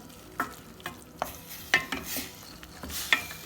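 Homemade pepper and tomato paste being sautéed in a pan, a steady low sizzle under regular scraping stirs, about one stroke every half second, close and moderately loud.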